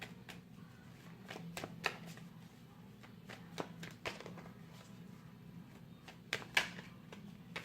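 Tarot cards being shuffled by hand during a reading, a quiet run of soft riffling and sharp taps and flicks, with a few louder snaps near the end and no talking.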